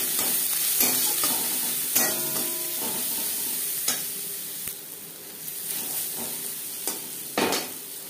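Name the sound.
onion frying in hot mustard oil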